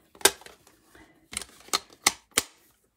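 A paper guillotine chops through card in a series of sharp, dry clacks, one isolated snap followed by a quick run of four crisp cuts, close and clear with no talking.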